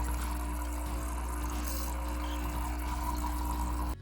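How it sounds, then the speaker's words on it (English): Hot water streams steadily from a HiBREW H10B stainless steel espresso machine, a loud continuous pour with a low pump hum underneath, cutting off abruptly at the end. "now I'm gonna get some more hot water"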